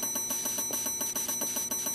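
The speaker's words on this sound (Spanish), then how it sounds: "Toca 100 veces el timbre." Doorbell in the horror video game Terroro ringing in rapid repeated bursts, a loud continuous metallic electric ring pulsing steadily throughout with no voices.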